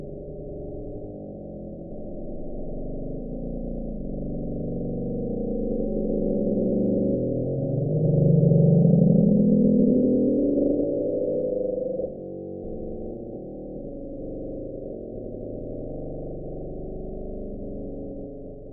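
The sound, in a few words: Bloop underwater sound recording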